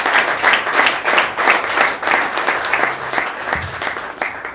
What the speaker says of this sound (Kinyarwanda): Amashyi menshi ku Mana yacu